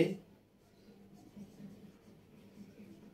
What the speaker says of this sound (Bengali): আমি প্রশ্নটা লিখে দিচ্ছি